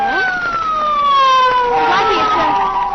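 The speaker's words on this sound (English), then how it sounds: "Blackie, it's Faraday in that police car." A wailing police siren sweeps up and down steadily, loud and close, with faint voices underneath.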